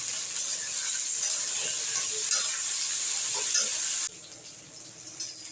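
Plantain, drumstick and flat beans frying together in hot oil, a steady bright sizzle and crackle with small bubbling pops that drops abruptly to a quieter hiss near the end.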